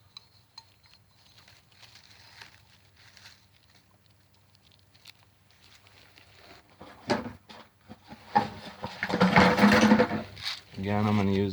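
A dog-proof raccoon trap is set by hand outdoors near water, giving metallic clicks and ratcheting rattles that grow louder and busier toward the end, with soft speech at times.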